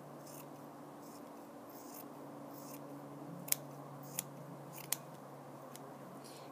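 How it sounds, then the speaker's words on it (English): Scissors snipping felt into small pieces, a few crisp sharp clicks standing out over a quiet room background with a low steady hum. "you're going to want to cut little pieces of it"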